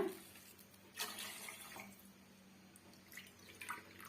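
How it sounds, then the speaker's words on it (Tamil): Three cups of water trickle and splash into a bowl for pineapple kesari, a faint, uneven pour with a couple of brief surges. "நான் மூன்று கப் அளவுக்கு தண்ணி சேர்த்துக்கிட்டேன்"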